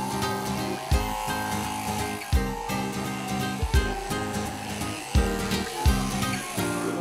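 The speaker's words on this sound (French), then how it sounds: "on va tondre le mouton dans le calme et la bonne humeur" Electric shears drone steadily while shearing a sheep during a demonstration at the Libramont fair, with a low motor hum and regular thumps as the blade sweeps through the fleece.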